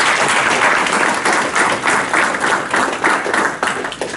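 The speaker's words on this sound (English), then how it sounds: "Let's give everyone that came up a round of applause." An audience applauds for people who came up at an event, a steady, fairly loud wash of many hands clapping that continues with slight swells.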